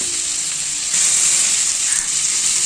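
Turnip sautés in a pan with rock salt, giving a loud, close, continuous hissing sizzle that grows slightly stronger partway through, with no talking.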